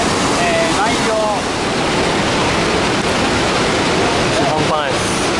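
Iguazu Falls, the vast waterfall on the Brazil side, roars as a dense, unbroken wall of rushing water and spray, loud and close throughout, with faint voices in the background.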